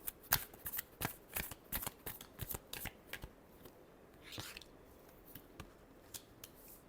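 Tarot cards are shuffled close up in quick, crisp riffling bursts, several in a row and then a few sparser flicks, fairly faint and with no voice over them.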